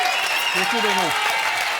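Studio audience applauding a dancer on a French TV game show, steady broadband clapping filling the whole stretch while someone speaks briefly over it.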